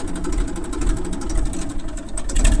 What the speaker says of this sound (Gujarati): ઈવાજ બંધ કરી દે ટ્રેક્ટર